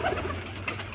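Pet pigeons, white and black birds squabbling over freshly scattered feed, give a short, close, throaty coo over a low steady rumble.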